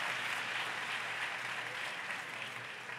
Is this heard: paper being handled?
no